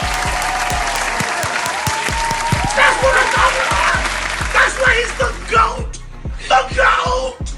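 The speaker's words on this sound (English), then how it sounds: "Everybody clap up to Brother Mari real quick." An audience claps in a steady, rhythmic pattern, with occasional cheers and yells rising over a pulsing beat underneath.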